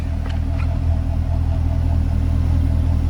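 A 2013 Chevrolet Corvette convertible in Victory Red with an automatic transmission idles close by, a steady deep low rumble with an even chug and no voices.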